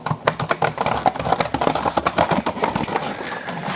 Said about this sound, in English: Let's listen to the keys.